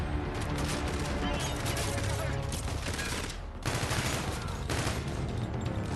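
Short bursts from an SMG with a reflex sight in Call of Duty: Infinite Warfare crackle loudly and steadily throughout, with brief dips between volleys over dense game audio.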